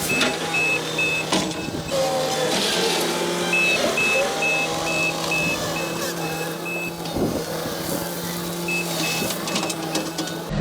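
Trucks hauling stone for a long driveway project: diesel engines rumble steadily while a reversing alarm beeps in repeated evenly spaced runs, loud and close, with scattered clanks.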